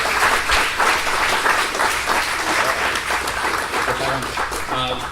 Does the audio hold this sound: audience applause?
yes